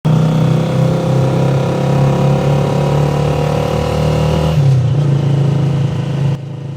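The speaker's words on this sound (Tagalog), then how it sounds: "Sumakay na nga ako ng tricycle dito patungong munisipyo." Steady engine drone of a motorized passenger tricycle during a ride, loud and continuous with a slight shift in pitch near the end; no talking.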